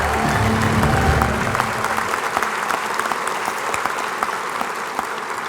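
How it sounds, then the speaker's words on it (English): A loud, dense burst of applause fills the hall for a 2018 WVU Sports Hall of Fame inductee, steady and close for several seconds, a little murmur of crowd mixed in at the start before the clapping settles. "Please join us for a round of applause for 2018 inductee"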